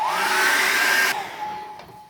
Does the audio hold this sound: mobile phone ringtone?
no